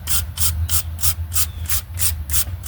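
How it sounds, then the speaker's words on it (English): A wire brush scrubs rust off metal engine parts during a 2009 Dodge Journey 3.5L engine and transmission mounting job, about nine quick, rhythmic, harsh scratchy strokes close up over a low background hum. "take the wire brush and just kind of get a little bit of rust off them a little bit"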